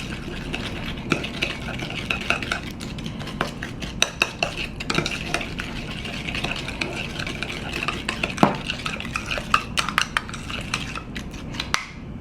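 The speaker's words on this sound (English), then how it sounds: "Let's mix it up." Repeated clinks and scraping of a utensil stirring homemade sauce in a bowl, with a steady rhythm of light taps against the sides, close and fairly clear.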